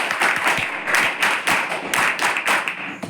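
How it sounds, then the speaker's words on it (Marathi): Loud, vigorous audience applause fills a hall at a tribal hostel in Gopal Nagar, Amravati, as many hands clap continuously in close, rhythmic waves with no speech over them. "एक वेळ जोरदार टाळ्या स्वतः झाली"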